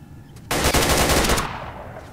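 Rapid automatic gunfire bursts loud and close in the shooter game S.T.A.L.K.E.R. Narodnaya Solyanka, a dense volley lasting about a second before trailing off into a lingering echo.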